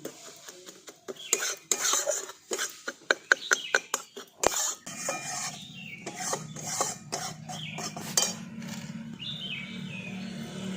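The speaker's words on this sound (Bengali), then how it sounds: "এই বেসনটাও তেলের মধ্যে খুব ভালো করে ভেজে নিচ্ছি।" Gram flour being stirred and fried in hot oil, heard as a quick run of sharp spoon clinks and scrapes against the pan, then a softer continuous frying hiss, with faint bird chirps in the background.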